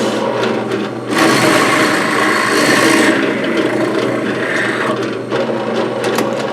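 Close, loud grinding whir of a drill press boring into material for a couple of seconds, then easing into a steadier motor hum.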